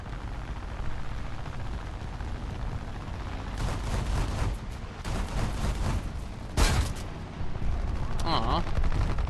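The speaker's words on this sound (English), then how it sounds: "But if they sound like those cannons." Aircraft cannon fire in the War Thunder air arcade combat game, heard as dense, rapid bursts under a constant roar of engine noise, with one sharp loud burst near the end.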